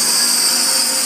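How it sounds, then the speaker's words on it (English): Extractor fans running beside a Mercury 3 cutting machine, a loud steady whooshing hum with a high whine, constant and unbroken with no talking. "make sure my extractors are on."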